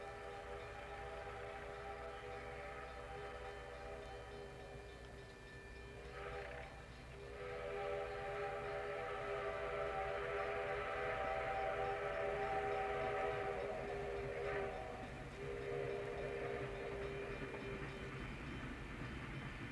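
Burlington Route steam locomotive 5632 rolls west across Iowa, a steady rumbling train passage with rhythmic rail noise and a sustained whistle-like tone, loud and continuous throughout, swelling slightly midway.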